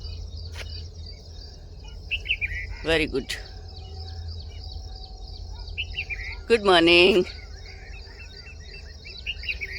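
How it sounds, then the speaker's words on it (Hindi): A red-vented bulbul sings on a morning walk, a couple of short bright phrases standing out at moderate distance over insect hum and other faint birds, while someone talks briefly nearby. "ये बुलबुल की आवाज़ है, सुनो भाई"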